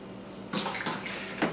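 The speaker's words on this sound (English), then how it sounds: "we're ready to drop the wort into the fermentation pail" Wort gushes from an opened valve into a fermentation pail while brewing an American light ale, a sudden splashing pour that starts abruptly and keeps running with a few louder surges.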